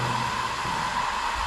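An air conditioner unit runs inside an abandoned building, giving a steady, even whooshing hum with a faint tonal whine throughout.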